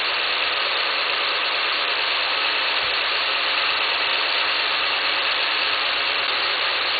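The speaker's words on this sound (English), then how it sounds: "just want you guys to hear the sound from the stock intake system." A 2010 Ford Sport Trac Adrenalin engine idles steadily on its stock intake system, a constant mid-pitched hum with a broad hiss layered over it, unchanging and alone for several seconds.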